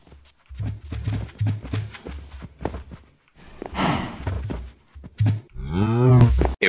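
Cows in the game Minecraft give a series of moos, short low calls in a rough rhythm followed by longer drawn-out lows, close and fairly loud.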